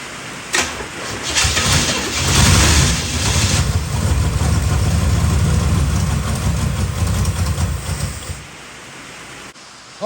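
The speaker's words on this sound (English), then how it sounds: "It means the fuel pump's working." Engine of an abandoned 1968 Chevelle cranking and sputtering with the fuel pump running, a loud steady rumble lasting several seconds before cutting off.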